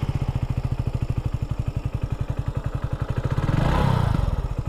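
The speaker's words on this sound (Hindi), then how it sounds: "अब बाइक को स्टार्ट कर लेते हैं।" A Hero HF Deluxe BS6 motorcycle engine runs with a steady, rapid thumping idle, then revs up briefly near the end before settling back, loud and close.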